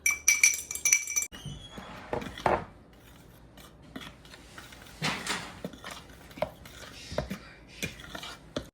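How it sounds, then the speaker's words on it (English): Teaspoons tapping and clinking against a glass bowl as leveled spoonfuls of nutmeg and cinnamon go into sifted flour for a Jamaican Christmas cake, light close clinks and scrapes scattered through a quiet kitchen. "now I'm gonna add 2 leveled teaspoons of nutmeg and cinnamon"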